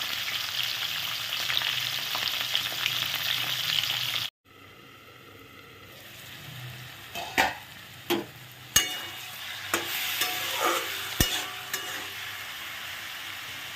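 Fish heads dropped into well-heated oil in a pan, a loud abrupt hiss that cuts off, then quieter sizzling with several sharp spits and pops, no voices.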